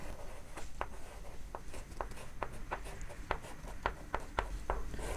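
Pen or pencil writing by hand on a technical drawing sheet for a bushed bearing assembly, giving a run of short, crisp scratching strokes at an uneven pace over a steady low background hum, close to the microphone.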